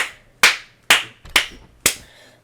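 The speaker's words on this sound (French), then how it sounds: "Je t'applaudis." Five sharp hand claps in a slow, steady rhythm, each ringing out briefly, close and clear with no talk over them.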